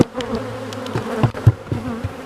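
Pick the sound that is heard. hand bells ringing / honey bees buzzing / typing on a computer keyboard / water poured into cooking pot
honey bees buzzing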